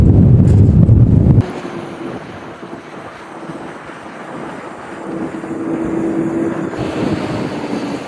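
Wind gusting over farm fields during tillage before a storm, a loud buffeting rush at first that drops to a steadier low roar and slowly builds again.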